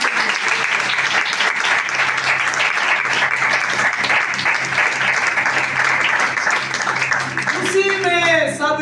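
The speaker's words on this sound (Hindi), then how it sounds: "आए तालियां बजाएंगे।" A church congregation claps loudly during a Christmas sermon, a dense and continuous wave of applause that holds steady, with a voice rising briefly near the end.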